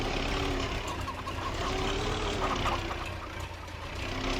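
A tractor engine in Farming Simulator 25 drones with a steady, low mechanical rumble that holds at an even level throughout, with a faint tonal whine riding on top and no talking.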